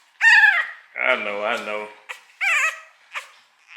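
A young puppy, recently ear-cropped, whimpers and yips in several short, high-pitched cries close by, with brief gaps between them and a person speaking briefly.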